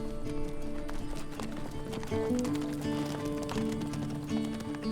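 Horses' hooves drum in a fast, continuous gallop at moderate distance on a farm near the Australian Alps, with some faint background noise.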